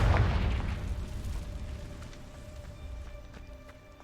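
A Confringo fire spell blast in the video game Hogwarts Legacy, starting as a loud booming burst that decays into a rumbling tail, with faint game sounds after it.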